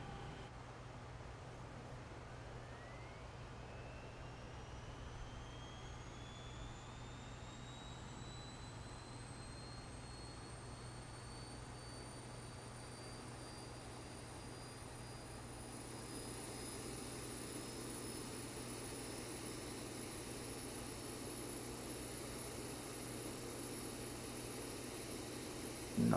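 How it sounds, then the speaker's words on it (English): An airliner's auxiliary power unit starts up in the X-Plane 11 flight simulator. A whine climbs steadily in pitch and then levels off over a constant low engine hum, lasting about half a minute with no talking. "So while we're waiting for the APU to start up,"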